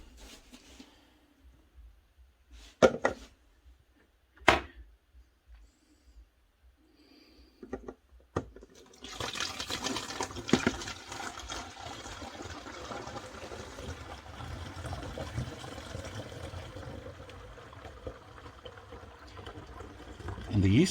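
Water running through cider racking tubing, first a few isolated splashes and drips, then a steady rushing, trickling flow that continues without a break for the second half.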